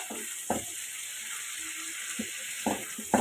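Steady sizzling hiss of ground spices frying in a pan, broken by a few soft scraping stirs, close and continuous with no voices.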